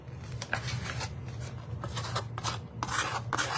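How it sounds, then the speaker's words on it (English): A palette knife scraping paint on a mixed media snowman artwork: close, repeated rasping strokes in an uneven rhythm, with no talking. "I'm just scraping off what's down there, and the palette knife just makes it"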